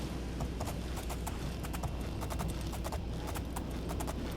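Shadowmere the horse gallops in the Oblivion video game, hooves clip-clopping in a steady, quick rhythm near and clear over a low rumble of ambience, with no talk.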